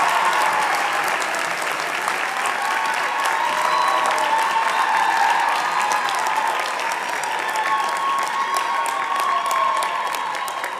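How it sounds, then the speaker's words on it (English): An audience at a fall convocation ceremony applauds practical nursing graduates with sustained, even clapping for about ten seconds. The crowd sound is full, with a few faint cheers mixed in. "please give a round of applause for the graduates from the Practical Nursing Program"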